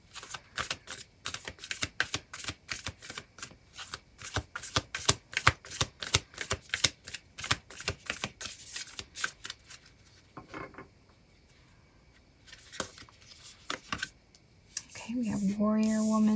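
Tarot cards being shuffled and picked, a rapid close series of crisp flicking riffles that thin into scattered taps and slides, ending with a voice speaking.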